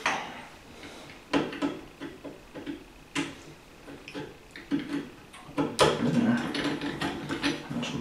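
Brass stem valve of a leaking tub faucet being turned and tightened by hand, giving scattered dry metallic clicks, ticks and ratcheting scrapes at close range, with uneven bursts and brief pauses and no talk.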